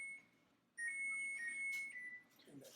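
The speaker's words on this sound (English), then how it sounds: "Turn that timer off." An electronic kitchen oven timer beeps with steady high tones in a home kitchen, rising in level partway through, while faint movement and quiet voices sit underneath.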